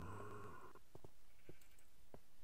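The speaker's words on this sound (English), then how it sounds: "Heard a sheep." A sheep in the video game Minecraft bleats once, a short wavering harmonic cry up front, followed by a few faint scattered clicks in an otherwise quiet scene.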